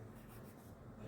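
Chalk or marker scratching and rubbing across a board during a maths lesson on circles, a steady close scraping texture that continues for about a second with no talk.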